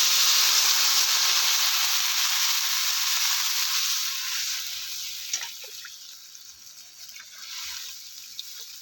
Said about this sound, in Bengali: এবার আমি ভালো করে এটা কষিয়ে নেব উচ্ছে আর আলুটা ভালো করে কষানোর পর